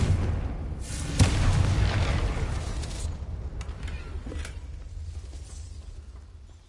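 Confringo blasting spell from a Harry Potter video game: a sharp explosive boom followed by a rumbling, crackling roar that slowly fades, loud and close with no speech.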